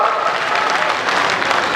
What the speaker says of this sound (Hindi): तालियों के साथ स्वागत करिए माननीय गृह मंत्री जी का।